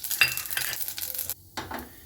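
Urad dal and chana dal fry in hot groundnut oil with tempered mustard seeds, a close sizzle mixed with scraping stirs of a utensil against the pan, broken by one short pause.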